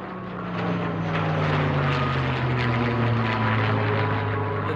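A P-51 Mustang propeller plane flies in formation with an F-15 Eagle fighter, giving a loud, steady droning engine roar with a low throbbing tone that holds close and continuous throughout.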